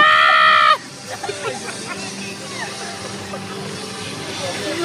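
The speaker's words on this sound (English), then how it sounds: "He's gonna scream like a bitch." A person lets out a loud, high-pitched scream lasting under a second that drops sharply in pitch, followed by softer crowd noise and scattered voices.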